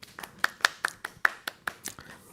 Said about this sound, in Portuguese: Uma salva de palmas para esse povo aqui.